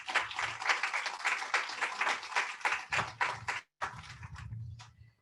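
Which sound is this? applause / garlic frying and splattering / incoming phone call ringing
applause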